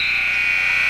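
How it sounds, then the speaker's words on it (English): A continuous electronic buzzer sounds at halftime of a girls' varsity high school basketball game, one loud, steady tone that holds unbroken from start to finish. "that's going to be the buzzer"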